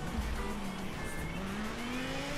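A GTA Spano racing fast in Forza Horizon 3, its engine holding a steady high rising drone with a faint tire squeal, fairly quiet and continuous, with no talk.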